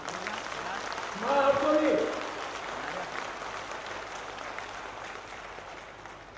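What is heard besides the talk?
crowd applause at political rally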